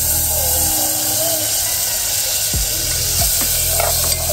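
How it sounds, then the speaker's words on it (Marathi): Butter sizzling as it drops into a cooking pot, with a steady frying hiss and a couple of brief clatters midway, close and fairly loud. "बटर टाकते"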